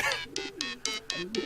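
Pigeons cooing in the video game Hiveswap: a run of short, throaty coos repeating in quick pulses, close and fairly quiet, with a faint voice in the background.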